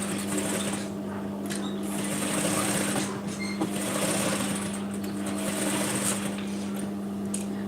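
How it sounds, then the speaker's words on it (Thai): A sewing machine stitches the back neckline of a round-neck sleeveless blouse with lining, running in a steady continuous hum close by without pause and without speech. "เดี๋ยวก็เย็บก่อนนะ เดี๋ยวก็จะเย็บตรง คอหลังฝั่งนี้ก่อน"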